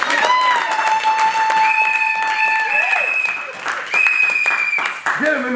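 A church congregation cheers and claps at a wedding anniversary and vow renewal, a sustained loud burst of applause and shouts with voices rising above it, swelling again near the end.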